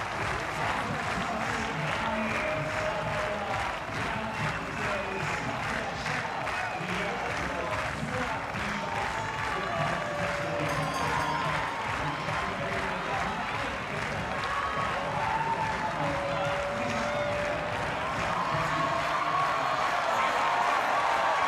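Crowd applause and cheering roar steadily throughout a women's triathlon finish sprint at the European Championships in Munich, a dense, continuous wash of clapping with a commentator talking over it.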